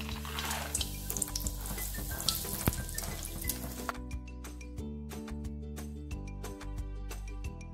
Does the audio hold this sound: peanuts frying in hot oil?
yes